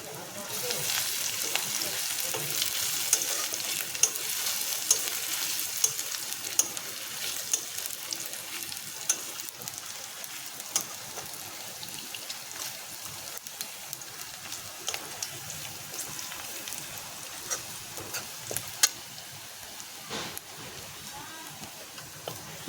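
Crushed garlic and black cumin frying in hot oil, a dense continuous sizzle with frequent small crackles and occasional stirring scrapes throughout.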